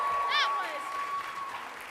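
Concert audience at a university choir pops concert cheering and clapping for the tenors and basses, a moderate swell of applause with a sharp whistle near the start, heard somewhat distantly behind the room's sound.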